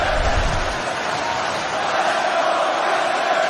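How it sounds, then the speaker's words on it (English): A Vancouver crowd at a Tristan Connelly versus Pereira fight chants loudly and steadily, a dense roar of many voices filling the arena without a break. "let's go Tristan from this Vancouver crowd"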